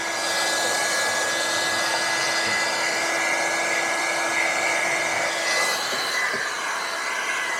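A heat gun blows steadily while heating tint film on a Tesla Model 3 window, a constant close whooshing hum with no talk.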